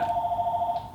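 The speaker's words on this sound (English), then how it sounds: "Phone." A single short electronic telephone ring, a steady warbling tone lasting under a second, fairly clear and alone.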